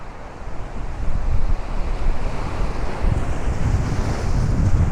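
Ocean waves surge and break along the South Brooklyn waterfront near Shore Parkway. The wash is continuous and roaring, with heavy wind buffeting the microphone and no voices.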